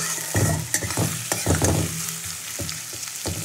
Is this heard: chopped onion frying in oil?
yes